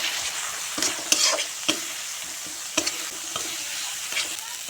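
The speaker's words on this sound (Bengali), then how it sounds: "সামান্য জল দিয়ে মশলা ভালো করে কষিয়ে নেব।" Ground turmeric, chili and cumin frying in a pan with a splash of water for a fish curry, a steady soft sizzle broken by several sharp stirring scrapes, close and alone.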